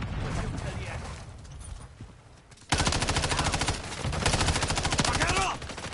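Rapid automatic gunfire in Call of Duty Modern Warfare 3, a dense, loud stream of shots starting abruptly midway and continuing to the end, with a voice speaking amid the action.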